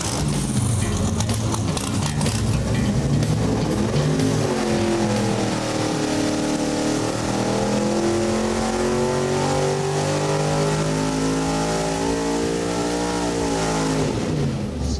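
A 440 engine built for a Camaro runs on a dyno, roaring loud and close as it sweeps up through the revs in a long continuous pull, then drops off at the end.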